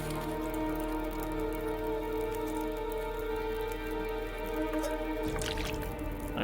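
Water is refilled in The Long Dark survival game, a faint, steady dripping and liquid squish under a humming background, with a brief louder splash near the end.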